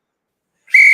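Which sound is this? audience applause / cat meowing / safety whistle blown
safety whistle blown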